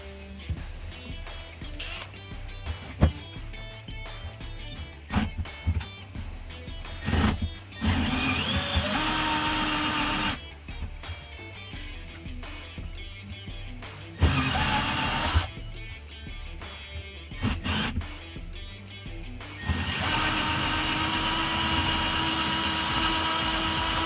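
A power tool cuts down the side of a stuck Milwaukee M18 drill chuck in loud, sustained grinding bursts of several seconds each, separated by quieter pauses and clattering handling.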